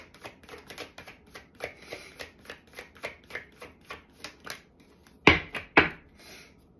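A deck of tarot cards being shuffled, with rhythmic riffling bursts repeating steadily, then two sharper, louder slaps near the end, close and without talk.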